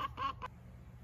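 Chickens give a few short clucking calls, two or three quick squawky notes close by in a brief burst, then low background rumble with no talking.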